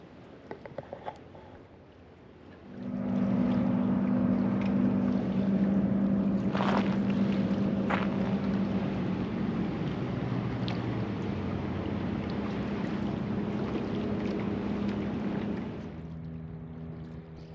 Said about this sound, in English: There's another boat.